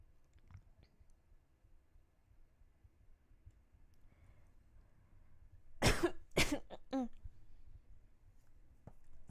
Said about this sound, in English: I didn't mean to cough directly in your ear.